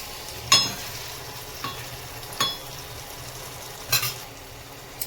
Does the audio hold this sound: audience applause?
no